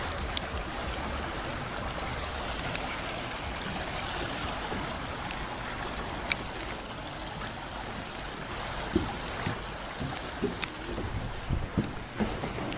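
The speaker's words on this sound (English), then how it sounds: "Daily Creek shot." Creek water flows over rocks in a steady, moderately faint outdoor rush and trickle, with a few small splashes and clicks and no talking.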